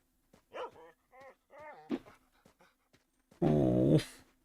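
A dog in the video game STALKER barks, growls and whimpers in short bursts, ending with a louder, longer snarling howl close by.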